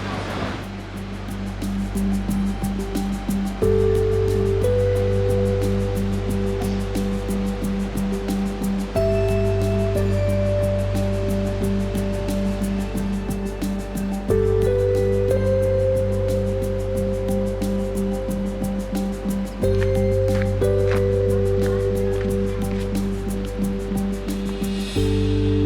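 Waterfalls along the Water Wheel Falls Trail in Tonto National Forest near Payson, Arizona, make a loud, steady rush of falling water. Sustained low tones shift in steps beneath it throughout.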